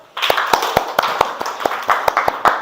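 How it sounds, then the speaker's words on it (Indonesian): A class of students claps during a coding and artificial intelligence lesson, with sharp, scattered hand claps ringing out across roughly two and a half seconds over a busy room. "Beri aplaus."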